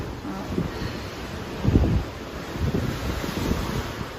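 Wind and surf at sea heard from a cruise ship balcony on the MSC Seashore under cloudy weather, a constant loud rush of wind buffeting the microphone with waves swelling beneath it.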